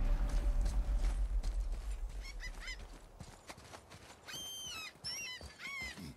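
A bridge axle being lifted in God of War: a heavy low rumble at first, then a series of wooden and metallic creaks and squeals, fairly close and with no voices.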